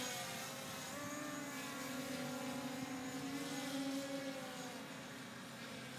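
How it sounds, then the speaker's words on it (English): A small drone hovers overhead above a house at sunrise, giving a steady, continuous whine with shifting tonal hums that drift slightly in pitch, moderately loud and unbroken throughout with no talking. "that drone is over me again"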